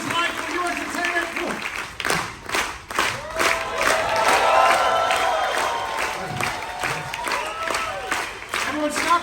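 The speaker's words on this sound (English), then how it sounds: "Everyone stop clapping." A cruise ship audience applauds and cheers for a performer, with dense clapping and whoops swelling and fading, and a voice talking over the crowd.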